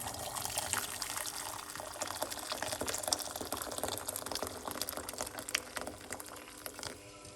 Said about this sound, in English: 1 cup of hot water.